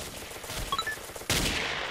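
Gunfire in the first-person shooter game Ace of Spades, with a few soft, quick shots followed by a louder blast and a noisy sustained rush, heard alone without talk.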